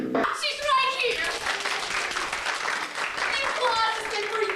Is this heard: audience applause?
yes